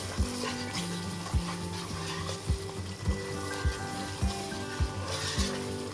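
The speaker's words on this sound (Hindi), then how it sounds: "थोड़ा सा भूनेंगे सब मसालों को" Spices are stirred and fried in a pan, with a steady low sizzle broken by regular spoon strokes scraping the bottom about once a second, close and with no talk.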